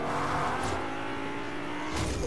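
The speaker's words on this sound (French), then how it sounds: "Allez, je prends ta Ferrari alors" A Ferrari driven in the Fortnite video game gives a steady, close engine roar with a hint of tire noise, running continuously without pause and without talk.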